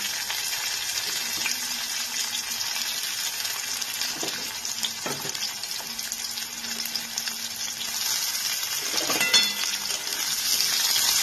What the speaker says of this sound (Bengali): এবারে পেঁয়াজগুলোকে দিয়ে দিচ্ছি।